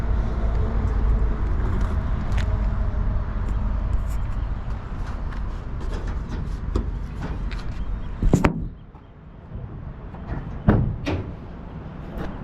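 A 1966 Ford Mustang engine runs with a steady, close, low rumble, broken by a few clicks and knocks. The rumble drops briefly near the end before picking up again.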